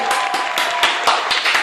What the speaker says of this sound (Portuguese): Palmas para ele, Vitório.